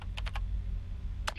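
Short bursts of typing on a computer keyboard in a puzzle game, a quick cluster of clicks, a pause, then another brief tap, close and fairly quiet.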